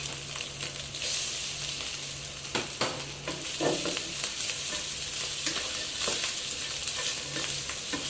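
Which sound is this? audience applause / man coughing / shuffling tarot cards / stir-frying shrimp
stir-frying shrimp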